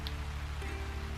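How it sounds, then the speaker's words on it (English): Rain falls steadily in the Gold Rush video game, a soft, even patter over a low hum, quiet and continuous throughout. "Obviously it's going to be a little darker today and rainy"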